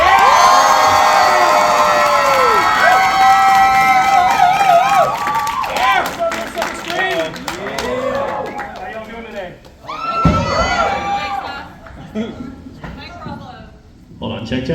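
A large convention audience at a Six Flags Fright Fest announcement cheers, whoops and shouts in a loud, sustained roar that swells and dips, with scattered clapping and a voice speaking over the crowd.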